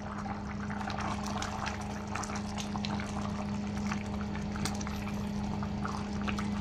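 Ginataang labong, bamboo shoots in coconut milk, simmers with a steady, close bubbling and gurgling that runs unbroken over a low hum, with no talking.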